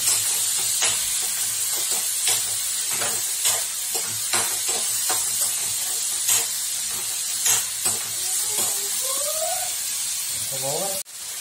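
Curry leaves and seasoning frying in a pan for beans palya, giving a loud continuous sizzle broken by regular scraping strokes of a stirring spoon, with a short clatter and a pitched squeak near the end.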